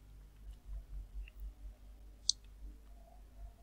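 A single sharp mouse click sounds faintly and close against a low, pulsing background hum as the add extension button in a Chrome browser is pressed.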